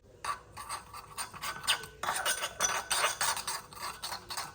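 Extra virgin olive oil being mixed with a za'atar spice blend in a bowl, a steady scraping and rubbing of a utensil against the dish in repeated strokes, close and fairly loud with no talking.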